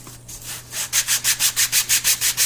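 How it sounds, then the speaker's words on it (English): A wooden dice box with engraved detail is sanded on a flat surface, giving a steady run of about a dozen even, close rasping strokes after a brief quieter start. "you start with your sanding, because you probably have a little bit of the residue from the cutting"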